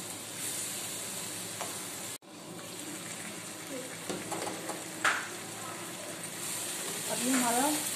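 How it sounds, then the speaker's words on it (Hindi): Masala with four or five green chillies frying in a pan for aloo chana chaat: an even sizzle under stirring and clinks, with a short break partway through and a voice speaking toward the end. "हम 4 से 5 अदद हरी मिर्च ऐड करेंगे और 2 से 3 मिनट इसको फ्राई करेंगे।"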